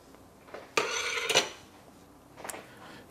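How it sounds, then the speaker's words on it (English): A kitchen knife honed on a steel before cutting an onion, heard as a few brisk metallic scraping strokes close by, two longer swipes early and a shorter one near the end, with quiet between. "the first thing I'm going to do is to hone my knife"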